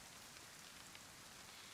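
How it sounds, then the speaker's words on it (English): Steady, soft rain hisses in the DayZ video game, a faint, even wash of falling drops with no voices over it. "I'm not really protected from the rain at all"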